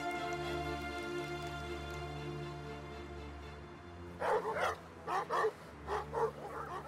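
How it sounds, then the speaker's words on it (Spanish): Several dogs bark in quick bursts of four or five sharp woofs, loud and fairly close, after a stretch of steady low hum and rain-like background. "no tengas miedo, solo son perros"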